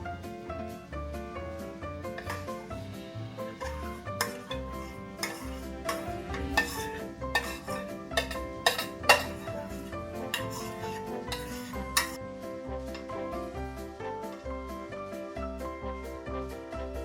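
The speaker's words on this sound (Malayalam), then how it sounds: "വളരെ പ്രയാസപ്പെട്ട് ഇതെല്ലാം കൂടെ ഞാനൊന്ന് മിക്സാക്കി എടുക്കുകയാണേ" A spoon scraping and clinking around a small pot while a thick strawberry dessert mixture set with cornflour is stirred, with steady close knocks and scrapes sounding nearly continuously.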